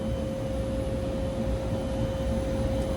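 A spin coater whirls a wafer at 4,500 RPM, giving a quiet, steady whirring hum with a constant pitched whine and no breaks.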